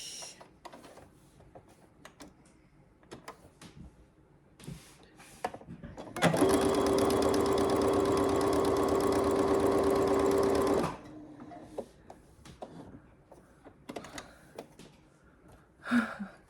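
A sewing machine stitches quilt squares for a Christmas quilt, sewing corner to corner in one steady, loud run of about four and a half seconds. Quieter handling noises and taps come before and after it.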